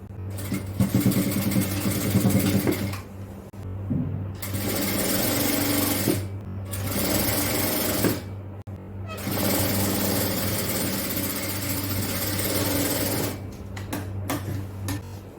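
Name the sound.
sewing machine stitching a top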